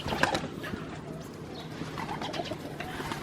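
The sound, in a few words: pigeons cooing as they leave the loft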